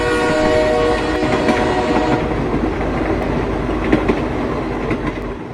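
A train running along a railway line, a loud steady rumble with clattering wheels and sustained horn-like tones throughout, close and continuous with no voices.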